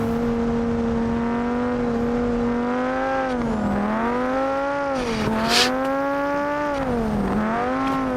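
A safety car in the BeamNG racing game drives with a clear tonal engine whine that rises and dips repeatedly through gear changes and corners, with a brief hiss partway through.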